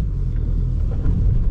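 A cold car on the road gives a short burst of hard acceleration, a close, loud low engine rumble swelling briefly as the tyres struggle for grip.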